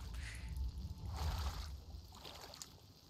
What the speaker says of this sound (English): I guess we can just paddle ourselves like this